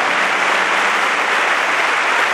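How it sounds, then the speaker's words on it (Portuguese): A church congregation bursts into loud, dense applause during a Catholic homily honoring the archangels, a continuous close wall of clapping with no break. "Vamos aplaudir os anjos de Deus."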